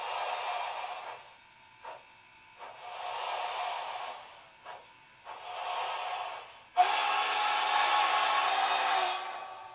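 An MTH model train whistle sounds in four hissing blasts, three shorter evenly spaced toots and then one longer, louder sustained blow, with small clicks between; no voices.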